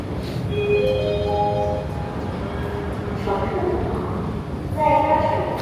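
Wuhan metro station platform with a train present, carrying a steady low rumble of rail noise overlaid with clear electronic chime tones and announcement-like beeps, under a continuous murmur of people talking nearby.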